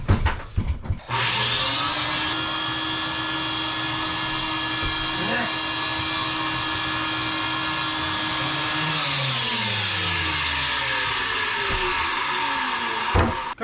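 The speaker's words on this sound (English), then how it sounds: "That means I gotta set up my sanding recovery, dust recovery management system." Steady loud whine of a dust-extraction vacuum running alongside a power sander on wood during a wooden boat restoration, starting abruptly after a second and holding level for about eight seconds before the motor winds down and dies as power cuts out.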